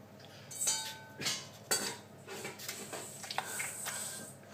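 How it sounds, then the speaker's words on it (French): A large spoon scrapes around the inside of a tomato in a few short, uneven scraping and clinking strokes, close and fairly quiet. "Cette tomate, vous prenez votre cuillère, votre grosse cuillère, ok. Et là, en fait, vous allez faire le contour de la tomate."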